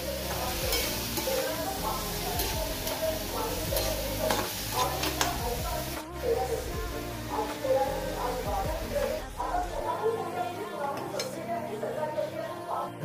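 Butter egg bhurji cooks in oil in a pan, with steady sizzling and frying under repeated stirring scrapes and occasional clinks of a utensil against the pan, close up, with a voice speaking over it.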